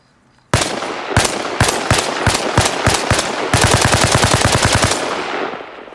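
Rifle fire with normal rounds in the Arma Reforger video game: loud single shots at a steady pace, then a rapid continuous burst of automatic fire that ends abruptly, with no voices.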